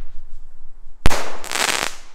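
A consumer firework shot from the Conspirators box fires with a single sharp bang, followed by a crackling, hissing burst that lingers and fades, heard outdoors with no talking.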